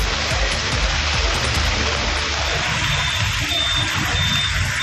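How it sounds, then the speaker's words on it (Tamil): Heavy rain pours down steadily in Tenkasi, a dense, even hiss of water that holds at the same loud level throughout with no voices. "நேற்று சுமார் அரை மணி நேரமாக கனமழை பெய்தது"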